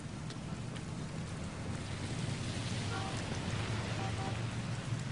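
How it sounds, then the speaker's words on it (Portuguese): Steady rain falls outdoors in a continuous, even hiss with a low rumbling undertone, fairly faint and unbroken throughout, with no voices over it. "já tá chovendo"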